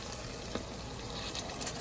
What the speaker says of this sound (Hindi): अगर आपको लगे पानी बिल्कुल ख़त्म हो गया, हीट ज़्यादा थी पहले भूनने की वक्त, तो थोड़ा सा पानी डाल दें।